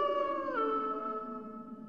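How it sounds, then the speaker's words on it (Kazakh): A lone wolf howl in an animated film: one fairly faint, drawn-out tonal wail that steps down in pitch partway and fades, with no other sound around it. "Тез бас аяғында қасқырлар жақындап қалған сияқты."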